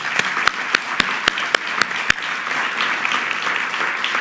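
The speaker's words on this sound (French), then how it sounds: "je vous propose d'applaudir toute l'équipe opérationnelle qui travaille" Audience at a French expert conference closing claps for the operations team, a loud, close round of applause with several sharp individual claps standing out early, then fading into even clapping.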